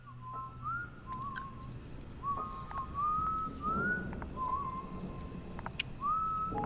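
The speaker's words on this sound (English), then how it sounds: "Whistling." A slow, eerie whistled tune drifts through trees around a camp at 4 a.m., rising and sliding phrases repeated alone over a low background hum.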